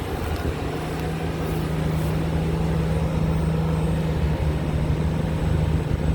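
A CAT 323GX excavator works clay and hard shale in heavy rain, its engine a steady low drone under continuous rain hiss, loud and close throughout with no talk.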